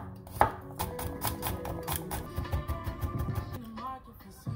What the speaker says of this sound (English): we're gonna do our marinade by first chopping up some garlic